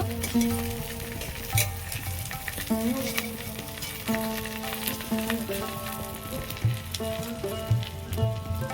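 Continuous crackling sizzle of jackfruit patties wrapped in banana leaf frying in a wok, close and even, with occasional stirring knocks and a low hum in the background.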